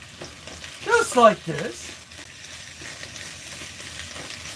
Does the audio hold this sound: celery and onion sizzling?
yes